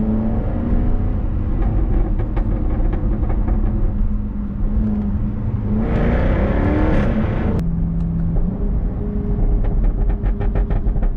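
A Jaguar F-Type R engine revving high at around 4,000 RPM, a loud, steady drone with a sharper surge and rasp midway, heard close up with no talking.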